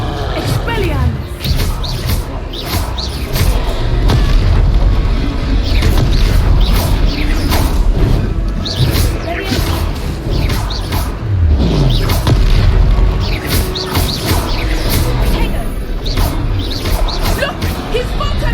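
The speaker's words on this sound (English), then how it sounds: "Expelliarmus!" A wizard duel in the Hogwarts Legacy game, with a cast spell among loud magical whooshes, booms and crackling impacts over a busy mechanical background, while voices call out during the fight.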